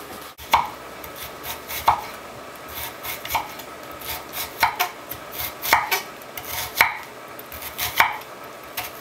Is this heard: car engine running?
no